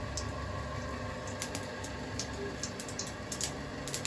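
Small irregular pops and crackles over a soft sizzling hiss, like mustard seeds spluttering in hot oil, fairly faint and scattered.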